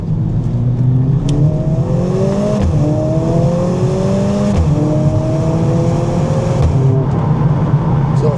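A Mercedes-Benz CLA 45 S pulls away on a road, its engine note climbing through gears with brief dips at each shift, loud and close, steady droning under the drive.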